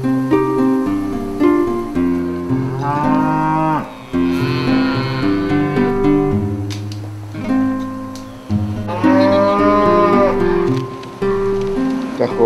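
Cattle being moved by drovers moo repeatedly at a livestock transit check in El Carmen. Several loud, drawn-out lowing calls come from nearby, overlapping each other, with light rain-like patter in the background.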